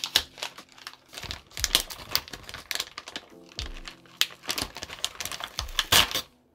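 Someone opens a Christmas-themed art subscription box by hand, producing close, quiet bursts of crinkling, tearing and clicky tapping in uneven clusters, with no talking.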